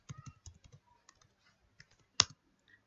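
Keys clacking on a computer keyboard while C# code is typed, a quick run of soft taps with short pauses and one louder stroke near the end, close and quiet with no talking.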